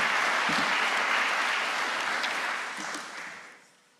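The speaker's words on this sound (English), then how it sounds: "So let's give them all a round of applause." An audience at an academic society's evening conference session applauds steadily, a dense wash of many hands clapping that gradually thins and fades out toward the end.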